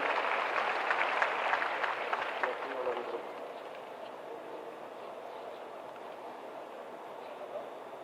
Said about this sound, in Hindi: तालियां बजती रहनी चाहिए, तालियां बजाएं